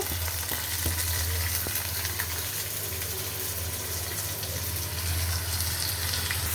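Chopped onion with ginger paste and a little garlic paste fries in hot oil, a dense, continuous sizzle close by over a low background hum.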